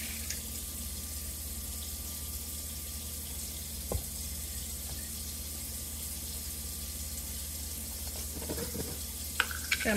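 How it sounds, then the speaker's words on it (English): Water pours steadily from a kitchen tap into a mason jar, a faint, continuous hiss with a few soft clinks toward the end. "I'm gonna put three cups of water in here."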